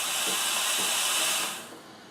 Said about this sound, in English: We're going to turn it back on for a second just to let the head purge.